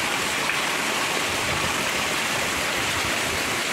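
Heavy monsoon rain with flowing water, a loud, continuous wash of rushing and pattering noise that stays constant throughout, with no voices.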